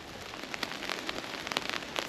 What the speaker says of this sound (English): we've just had a wee bit of rain. You can probably hear it on the tarp above me